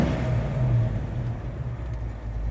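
A 1970 Ford Mustang Mach 1 V8 idling steadily, a low, even rumble held at constant level with no revving, close by and alone.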